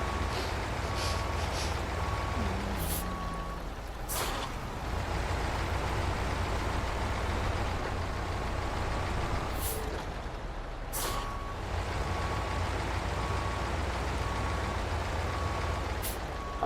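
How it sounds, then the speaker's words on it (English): A truck backing up in the Snowrunner video game: a steady, rumbling engine drone with repeated hissing air-brake bursts and a faint intermittent reversing beep, continuous throughout. "I am going to back this truck up"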